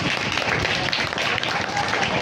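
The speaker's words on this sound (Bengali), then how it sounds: "জোরে একটা হাততালি।" A school audience at a cultural program claps after a dance performance, a dense continuous patter of many hands filling the short span at steady loudness.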